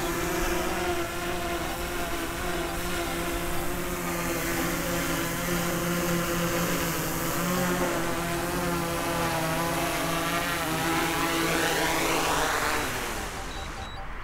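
A steady, loud propeller whine from a small DJI drone landing drones on continuously, its pitch shifting slightly before tapering off at the end.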